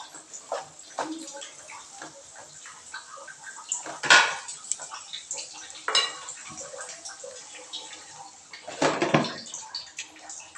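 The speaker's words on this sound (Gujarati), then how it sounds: "આપણે તેમાં ધાણા જીરું પાવડર એડ કરી દઈશું અને તેને સારી રીતે હલાવીને પાછું 3 મિનિટ માટે ઢાંકી દઈશું" A spoon stirs and scrapes through cooked mung beans in a metal pot in a home kitchen, giving repeated light clinks and knocks of varying loudness over a quiet background.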